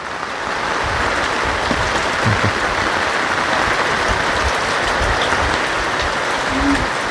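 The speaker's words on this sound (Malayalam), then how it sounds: "നല്ല മഴ സ്ട്രോങ് ആയി" Heavy rain pours steadily on a small rural forest house with a sheet roof, a dense, loud, continuous hiss that never lets up, with no voices over it.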